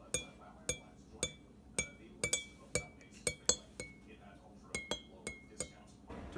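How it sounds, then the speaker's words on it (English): A metal spoon stirs a cup of coffee, clinking against the rim in a steady series of bright, evenly spaced taps, close and clear with a little pause midway. "Everywhere from stirring a cup of coffee"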